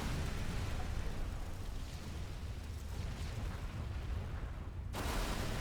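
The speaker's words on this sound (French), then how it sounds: "c'est quoi ces explosions?" Explosions rumble through a Navy Seals Blood Brother video game mission as a dense, continuous low roar of overlapping blasts, loud and steady for several seconds, with a fresh surge near the end.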